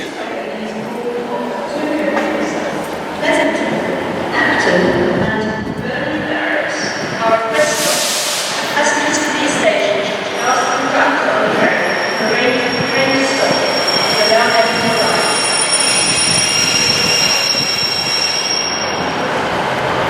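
A train passes through a station platform on a walk from Branchton toward IBM Halt, with sustained high squealing and rumbling. Near and loud, it runs steadily across the whole span, with a brief hissing burst partway through and muffled voices underneath.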